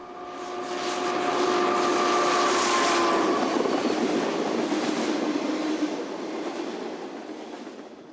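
A freight train passes near a river bridge, swelling from a distance into a loud rumbling roar with a horn-like tone at first, then fading slowly as the cars roll by.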